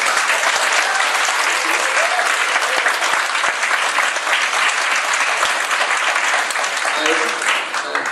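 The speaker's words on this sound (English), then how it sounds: "Can we have a big round of applause?" Dense, sustained applause from a large audience at a Chinese students' New Year gala at Queen's University Belfast, steady and loud throughout with crowd noise mixed in.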